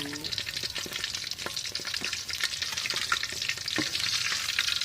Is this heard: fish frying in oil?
yes